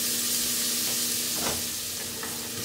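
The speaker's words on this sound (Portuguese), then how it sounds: "fritar 1 cebola picadinha. Vou fritar aqui ela um pouco." Chopped onion frying in a pan for a pork rib dish, a steady, close hissing sizzle with a few soft stirring scrapes and no talking.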